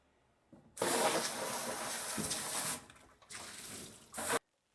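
Water gushes steadily from a tap into a giant sink in a brewery brew room during cleaning, loud and close, cutting off briefly before a second burst and a final surge, then stopping.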